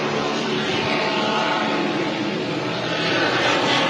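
The D.F. Young racing powerboat howls at high revs during the 2021 Englewood Beach Waterfest race, a loud, sustained engine roar that holds steady and swells slightly near the end.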